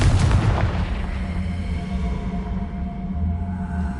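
A Confringo fire spell detonates in Hogwarts Legacy with a heavy booming blast at the start, then a long rumbling decay that fades under a low ambient hum.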